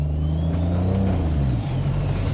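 A car engine, with the gearbox left in third, revs with a low droning note that rises, then sags and settles, loud and steady from inside the car.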